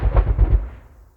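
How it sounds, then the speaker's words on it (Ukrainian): A rapid burst of several deep booming blasts in quick succession, then a rumbling decay trailing off into quiet. "І знову постріл. І знову бій."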